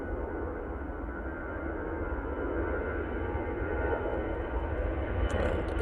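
A Lufthansa airliner at Manchester Airport gives off a steady, moderately loud engine rumble that swells slightly toward the end, with no talk over it.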